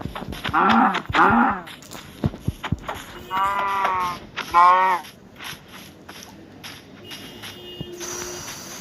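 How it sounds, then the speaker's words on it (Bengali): Four loud, clear cow moos in a Minecraft game, two short then two longer, followed by scattered footsteps and light shuffling. "কিছু গরুকে মেরে মেরে নিলাম পিছনে।"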